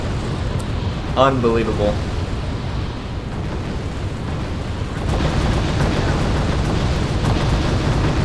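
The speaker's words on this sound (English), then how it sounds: "That is so many bombs coming down." A massed artillery bombardment in the strategy game R.U.S.E. rolls on as a continuous, heavy rumble of overlapping explosions, with a man briefly exclaiming over it.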